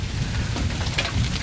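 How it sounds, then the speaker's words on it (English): Steady rain patters on a hunting shooting house, a dense even wash with no voices. "it started raining again"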